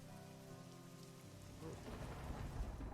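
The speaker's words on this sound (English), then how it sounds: "Lightning and thunder." Rain and rolling thunder in the video game Merry's Seven Wishes, a low rumble fading into steady rain pattering on a surface, faint and alone.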